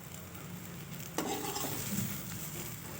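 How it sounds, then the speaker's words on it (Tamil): Brinjal poriyal fries quietly in oil in a pan as pepper-cumin powder is stirred in, a soft continuous sizzle with a spoon scraping and tapping against the pan. "அதையும் சேர்த்து நல்லா கிளறி கொடுத்துக்கலாம்"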